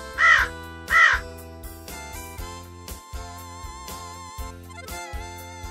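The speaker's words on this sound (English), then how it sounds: "What does a crow eat? The crow eats meat as well as plants." Two loud, harsh caws from a crow sound in quick succession at the start, over steady background music that continues alone afterward.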